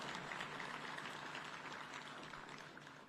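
Graduates clap at a National Defence University graduation ceremony in Kenya, giving a faint, steady wash of applause that carries on from start to finish.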